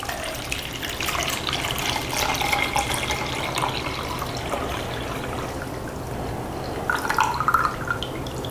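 Water pours and trickles steadily from a camping kettle spout for several seconds, with a soft splashing stream and a few brighter drips near the end.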